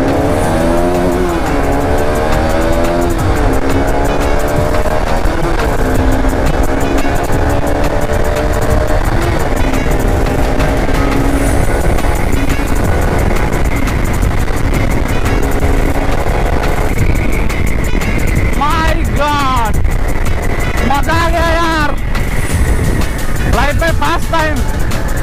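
Motorcycle ridden through a tunnel on the road to Haflong in Dima Hasao, India, giving a loud, constant engine roar and wind rush that rises and falls with throttle, while a rider's voice is heard under the noise.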